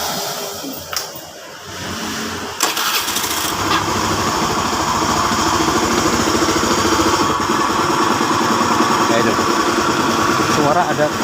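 A fuel-injected motorcycle engine with a knocking fault deep in the crankcase starts up after a brief click, then idles with a steady, close, rough thumping, while someone talks over it.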